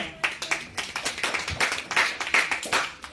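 A church congregation clapping together in praise, a quick steady rhythm of loud, close claps from many hands, with no talk over it.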